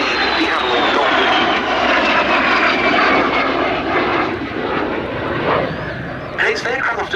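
A de Havilland Vampire jet flying at an airshow, its loud engine roar sweeping past and slowly fading with a falling whine, while a commentator talks over it.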